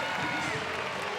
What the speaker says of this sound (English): Now they're just cheering